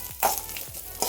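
Coconut frying in a pan for unniyappam, a broad hiss of sizzling oil with short stirring scrapes that swell at intervals, close and steady, with no one speaking.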